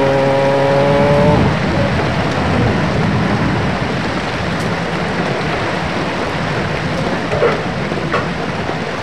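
A heavy rain and wind storm roars as a loud, unbroken wash of noise, with a brief tonal voice-like sound at the start and faint rumbles underneath.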